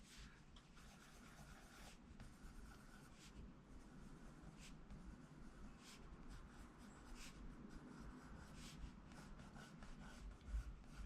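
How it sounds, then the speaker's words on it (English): A non-photo blue pencil drawing on smooth Bristol board makes soft, close scratchy strokes in quick bursts that continue steadily at low volume. "So here's a non-photo blue pencil."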